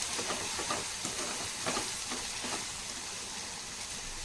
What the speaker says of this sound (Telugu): ఆయిల్లో ఫ్రై అవుతూ ఉంటాయి కాబట్టి మొత్తం అన్ని స్పైసెస్ అన్నిటికీ పడతాయి